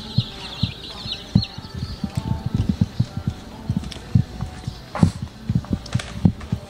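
Bantam chickens cluck in a steady series of short, close, irregular notes, with a faint higher call drifting above early on.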